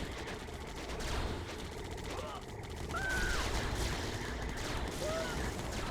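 Rapid machine-gun fire from Gatling towers in a Yuri's Revenge battle, a dense continuous rattle of shots mixed with other game noise, steady and moderately loud throughout.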